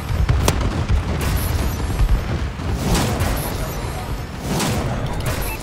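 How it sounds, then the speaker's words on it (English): Booming explosions from a friendly bombing run in Call of Duty: Advanced Warfare Domination, a dense continuous rumble with several heavier blasts swelling through it, loud and close. "Friendly bombing run incoming."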